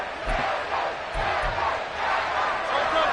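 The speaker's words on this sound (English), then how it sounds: "How about some applause for the defense there?" A large video game stadium crowd at an American football game roars and cheers in a steady wash of noise, loud and sustained throughout, with a few low thumps underneath.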